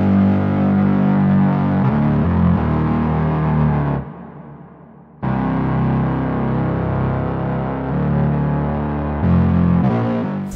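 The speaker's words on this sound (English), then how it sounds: "Okay, so next up we added a bass line." A distorted, heavily effected synth bass line from the Analog Lab preset Twisted Fantasy plays sustained dark notes with a brief drop-out near the middle before resuming, loud and alone.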